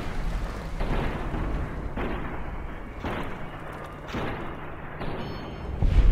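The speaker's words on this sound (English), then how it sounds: "And there's still shots being fired" Heavy booming shots and blasts in Fallout New Vegas roll out every second or so, deep and reverberant, with a steady low rumble underneath and no talk.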